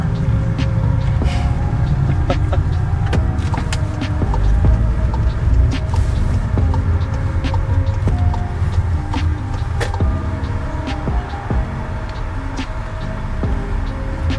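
Car driving through town past the Hanover Theater in Hanover, Pennsylvania, a steady low road rumble and engine hum inside the cabin with scattered small clicks and rattles, no talk.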